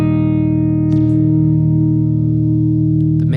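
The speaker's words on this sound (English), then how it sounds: "MIME has the same program, a little bit more elaborate reverb. So we should probably hear that too" A sustained, steady tone sits inside an elaborate reverb program, thick and continuous with a long wash, broken only by a couple of faint clicks.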